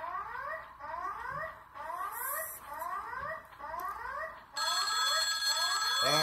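A telephone rings inside the mobile horror game Bear Haven, a repeating electronic trill in steady bursts of about one per second, loud and alone, with a harsher synthetic tone swelling in near the end.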